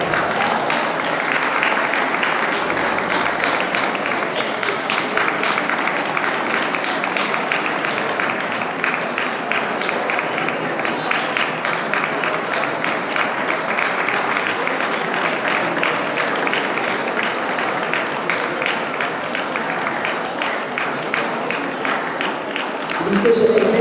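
Steady, sustained applause fills a hall at a dog show as a Maltese dog is honoured, dense clapping from a large audience holding an even level throughout, with a commentator's voice over it.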